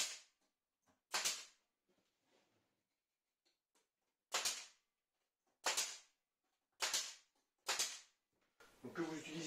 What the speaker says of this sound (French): que vous utilisiez un pistolet pneumatique comme ça ou des petites pointes